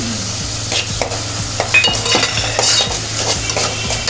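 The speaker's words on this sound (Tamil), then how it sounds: "உப்பு சேர்த்து நல்லா கிண்டிக்கிறோம்" Drumstick and lentil curry being stirred with salt and turmeric, a spoon scraping and clinking rhythmically against the pan in repeated close strokes over a soft sizzle, with no speech.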